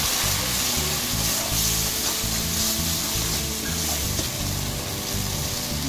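Spiced water hits a hot frying pan in a Bengali kitchen where taro stems and chickpeas are cooking with prawns, giving a steady, dense, close sizzle and bubbling that runs unbroken throughout.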